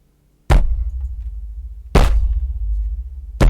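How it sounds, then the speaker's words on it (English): Three deep, heavy booms strike at intervals, each followed by a sustained low rumble that shakes on until the next hit. "is woken up by the ground rumbling violently."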